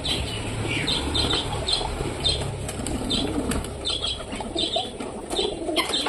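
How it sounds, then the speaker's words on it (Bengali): A pigeon beats its wings in flight at a backyard loft, a run of soft, fluttering flaps recurring through steady outdoor ambience, with faint coos and clucks of other birds nearby. "সেই একটা পায়রা এখনো উড়ে যাচ্ছে"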